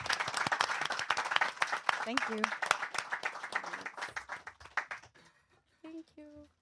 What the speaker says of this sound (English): So I would give a big applause to our panelists.